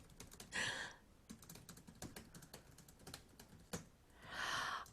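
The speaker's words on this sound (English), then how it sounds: "Sorry, I can't type fast enough." Someone types rapidly on a computer keyboard during an online lesson, the keys clattering in quick irregular bursts, close and steady, with a couple of louder noise swells between the strokes.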